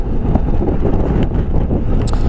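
Loud, continuous wind buffeting the microphone on a riding Honda ST1300 motorcycle, a low rumbling roar with gusty fluctuations and no voices.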